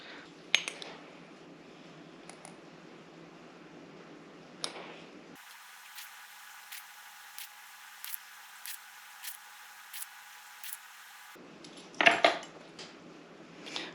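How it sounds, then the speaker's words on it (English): A teaspoon tapping and clinking against glass canning jars while salt goes in for raw-pack ground beef, with scattered light clinks and a louder cluster of clatter near the end. "I'm also going to use a teaspoon of salt in each of my"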